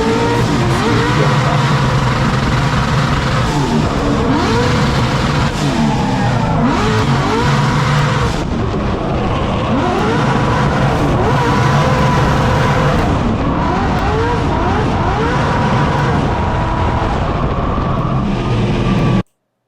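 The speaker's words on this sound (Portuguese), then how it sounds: "A hora que vai para minha largada, eu faço a largada." Race car engine in a drag-racing video game, loud and continuous, revving hard with repeated rising pitch sweeps as it launches from the start line after a burnout, with no talk throughout.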